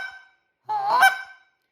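Saxophone cluck articulation, a drawn-out tongued note. A brief faint tone fades out, then after a pause a loud, raspy, honking note swells for under a second and stops.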